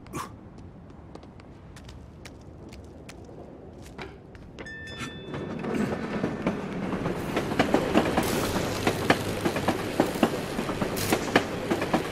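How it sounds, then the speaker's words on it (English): A tram in the video game Assassin's Creed Chronicles: Russia runs along its rails, starting quiet and building into a loud, busy rattle with rhythmic wheel clacks and metallic squeals. "I could catch a ride on the roof of that tram."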